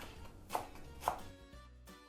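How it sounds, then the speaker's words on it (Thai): A knife finely chopping green onion on a cutting board in a few quiet chops, spaced about half a second apart, close by with faint background noise. "ก็จะหั่นฝอยๆค่ะ"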